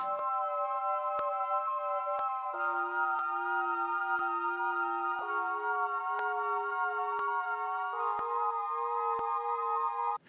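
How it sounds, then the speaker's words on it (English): A thin, slightly wobbly tone from the Native Instruments Hypha synthesizer holds steady with shifting low notes and regular soft clicks, playing alone for about ten seconds. "Really nice, thin, sort of weird, slightly wobbly sort of sound."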